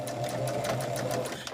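A sewing machine steadily stitches woven quilt fabric pieces together for a table topper, a continuous close motor whir with a rapid needle rhythm and no talk.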